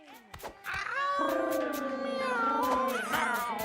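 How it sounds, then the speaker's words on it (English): Cats in the game Mewgenics give a long, drawn-out, wavering yowl after a few short chirps and clicks, loud and close, rising and falling over several seconds. "The final boss of the game are the cat sounds."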